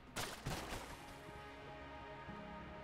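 A few sharp gunshots crack out in quick succession from a gun in Enter the Gungeon, fairly faint, followed by low game ambience and a soft electronic tone.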